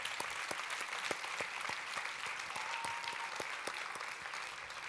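Applause from an audience at a Gen Blue 2025 awards ceremony: steady, dense clapping that carries through the whole stretch at moderate level, with individual sharp claps standing out and no talk over it.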